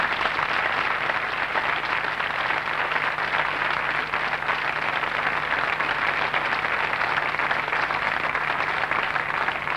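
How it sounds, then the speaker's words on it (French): A studio audience applauds on a French television tribute show, an even, unbroken patter of many hands clapping that stays at moderate loudness for the whole stretch with no talk over it. "Ah, j'ai envie de vous applaudir là."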